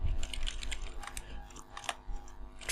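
Fingers type words on a computer keyboard, a quick irregular patter of light plastic key clicks close up, with no talking.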